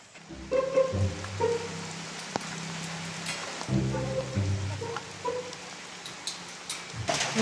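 Steady rain falls nearby as a continuous broadband patter with some harmonic music or tones playing underneath, and no one speaks.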